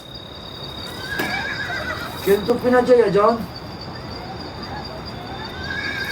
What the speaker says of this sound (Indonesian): Lu dengar kuda nggak?